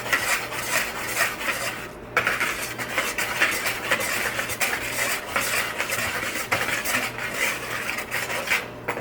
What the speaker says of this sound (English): I'm going to take my whisk and whisk it all together